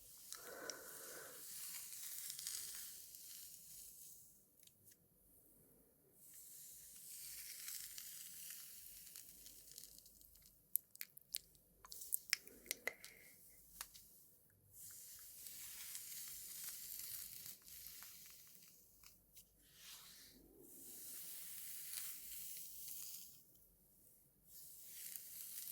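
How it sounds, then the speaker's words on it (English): Hair sounds for ASMR: soft, close crackling and rustling swells that rise and fade in waves, with a few scattered tiny crisp ticks, very quiet throughout and with no talking. "Let's mix it with some hair sounds."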